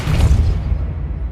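The Depulso force spell is cast in the video game Hogwarts Legacy, releasing a single heavy, close boom with a low rumble that fades away over about a second.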